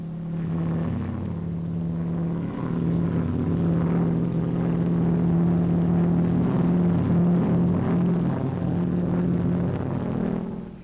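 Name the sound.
light aircraft flying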